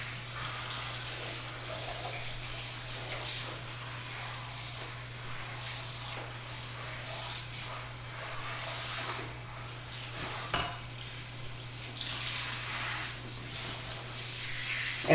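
Tap water runs steadily into a sink while shampoo and conditioner are rinsed out of a lace wig, a continuous close splashing hiss with slight rises and falls and no talk.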